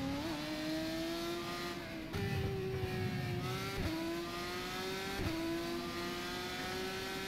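GP3 open-wheel race cars in the racing game rFactor 2 at a circuit, with a high engine whine climbing through repeated upshifts at steady intervals while another car passes close by.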